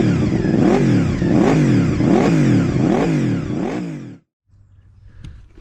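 A motorcycle fitted with a Black Widow end can exhaust revs repeatedly, climbing and falling in a steady rhythm for about four seconds, then cuts to a low idle burble, loud and close with no talk.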